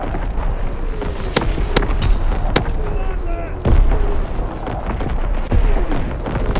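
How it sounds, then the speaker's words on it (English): Artillery strike in Call of Duty WWII multiplayer: a string of sharp, loud blasts, some with falling whistles before the impacts, lands close amid ongoing gunfire, with heavier booms near the middle and end. "Artillery ready for orders. Awaiting coordinates. Firing for full effect."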